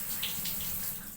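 Water runs steadily from a tap while a cockatiel is showered, a continuous close splashing rush with no talking over it.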